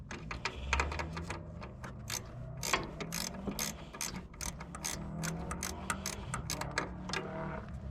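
A ratcheting wrench works a bolt on an MTD 990 lawn mower, giving rapid bursts of sharp, close clicks in uneven runs, with brief pauses between strokes.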